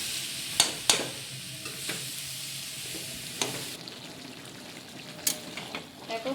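Cabbage curry fries in a pan while a spoon stirs and scrapes it, soft continuous sizzling broken by a few sharp metallic knocks and scrapes, close and without talk.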